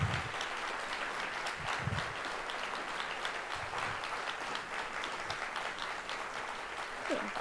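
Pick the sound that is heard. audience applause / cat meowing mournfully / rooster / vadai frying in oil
audience applause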